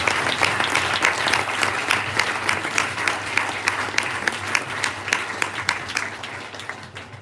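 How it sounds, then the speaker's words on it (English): Audience at the University of Lagos launch event applauding the Vice Chancellor, sustained dense clapping from a large crowd that fades slightly toward the end. "the Vice Chancellor of the University of Lagos deserves a better applause"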